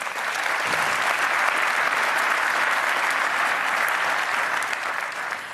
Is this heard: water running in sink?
no